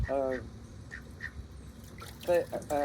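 A few nasal duck quacks sound nearby in short bursts, with a pause in between and a brief watery splash.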